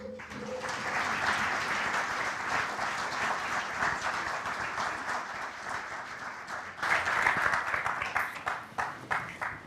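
A lecture audience gathered for a talk on Ansel Adams's photographs welcomes the guest speaker with sustained applause from many people. The clapping swells and holds, then breaks into a few louder, separate claps near the end.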